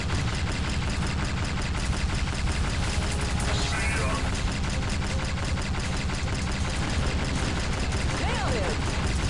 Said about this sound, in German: Die Schüsse kommen auch trotzdem an hier